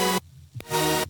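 Layered mono saw-wave synth chords in Zenith, stacked at high octaves, sustaining loud and bright, cutting off briefly and then returning as a dense held block.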